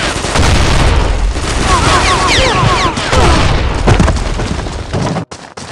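Dense, loud gunfire and booming blasts in a video game battle, continuous and close throughout, with shouted voices mixed in before the noise briefly cuts out near the end.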